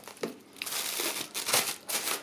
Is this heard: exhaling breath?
no